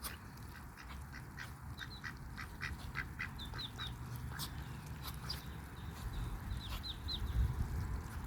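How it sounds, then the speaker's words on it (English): Mallard duck at a pond on a rainy day, giving a few short quacks and calls at moderate distance over steady rain-like background noise, with other bird chirps scattered through. "Oh, there's our mallard."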